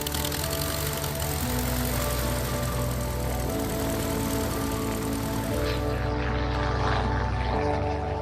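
A small airplane carrying skydivers over the Mayotte lagoon drones steadily in flight, its engine loud and continuous throughout, with a slight shift in tone toward the end.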